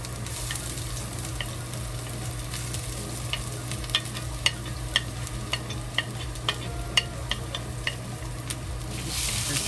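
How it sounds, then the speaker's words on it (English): Ginger and scallion fry in hot oil in a pot, giving a steady soft sizzle with scattered light clicks and scrapes of stirring, close and moderately quiet. "When the oil is hot, we add the ginger and scallion into it."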